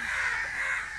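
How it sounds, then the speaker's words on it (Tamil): Many crows cawing together, a dense continuous chorus of harsh calls close by, with no talk. "அதுக்காக எவ்வளோ காக்கா எப்படி கத்துறாங்க பாருங்கள்."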